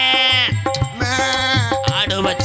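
A man does a vocal imitation of a goat bleating at a crowded village gathering in Kalaiyarkovil Puliyurani, loud and close, with a string of wavering, quavering bleats running back to back.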